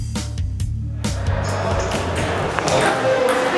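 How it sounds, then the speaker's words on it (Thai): A ping pong ball is struck back and forth with a smartphone used in place of a paddle, giving several sharp hollow taps in quick succession, mostly early, while a voice narrates over them. "โชว์ทริคการเล่นปิงปองด้วยการใช้โทรศัพท์มือถือสมาร์ทโฟนยี่ห้อหนึ่งแทนไม้ปิงปอง"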